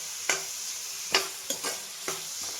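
Boiled bottle gourd being stirred in a pot, with several separate scraping strokes spaced about half a second apart over a quiet background, and no talking.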